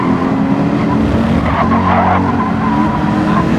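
Race car braking hard into a chicane at the end of a track, side by side with another car, with loud sustained tire squeal and engine roar close up throughout.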